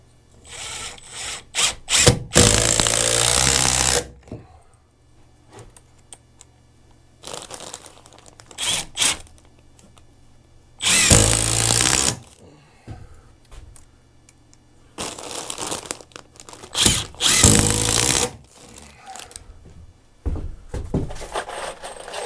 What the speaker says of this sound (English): So let's throw a bunch of screws in here.